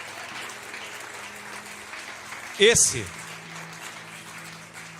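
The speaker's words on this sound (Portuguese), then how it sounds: "Pode aplaudir o Senhor." A congregation applauding in an evangelical church, a steady wash of clapping throughout with a brief, loud voice cutting in near the middle.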